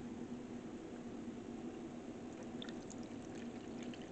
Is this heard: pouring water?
yes